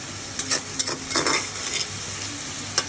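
Prawns sizzling in oil in a covered pan, a constant hiss broken by several short sharp bursts and clinks of stirring; no one speaks.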